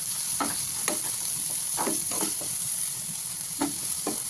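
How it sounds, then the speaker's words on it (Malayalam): Crushed ginger and garlic fry in a pan for chicken curry while a spoon stirs, a constant bright sizzle broken by several soft scraping strokes at an irregular pace, close and with no voices. "നന്നായി ഒന്ന് ഇളക്കി കൊടുക്കാം."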